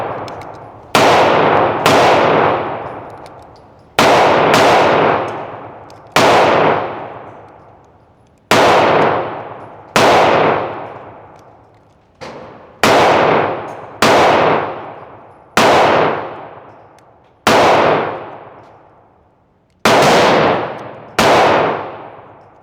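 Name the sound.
gunshots at a shooting range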